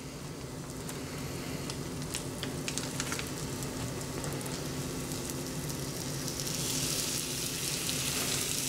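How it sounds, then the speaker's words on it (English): Bacon strips sizzle in a frying pan with a steady, dense crackle and hiss, with a few sharper pops early on, close and uninterrupted with no talk. "Start laying bacon. Right onto the pan."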